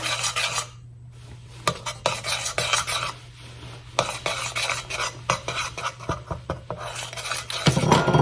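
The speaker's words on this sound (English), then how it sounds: "I'm gonna slowly start adding and incorporating my flour" A spoon or whisk works flour into chocolate brownie batter in a bowl, producing close, rhythmic scraping and clinking strokes that repeat steadily with brief pauses.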